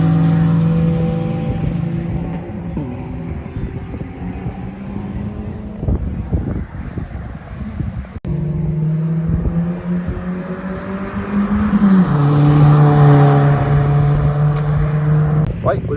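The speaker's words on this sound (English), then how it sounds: "As you can hear behind me, there's loads of Fiestas going around" Ford Fiesta race cars lapping a circuit during testing for a six-hour race, engines droning and revving continuously in the background, rising and falling as cars pass, with someone talking over the noise.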